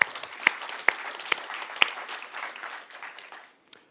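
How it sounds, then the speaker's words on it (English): Audience applause at a business growth event, moderately quiet clapping from a crowd with a few sharp individual claps standing out, fading away after about three seconds. "So give a round of applause for that."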